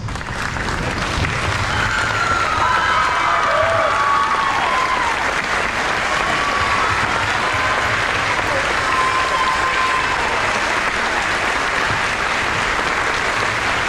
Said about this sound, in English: giving this man a round of applause